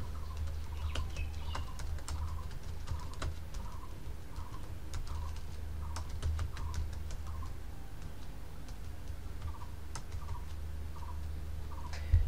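Keys clack on a computer keyboard in short, even bursts of soft taps, close and quiet, with a low steady hum underneath and no talking.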